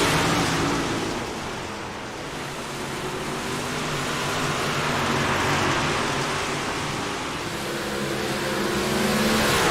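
Big block modified dirt race cars roar around a dirt track together, a loud, continuous rumbling engine din that swells and eases as the pack passes, with no talk over it.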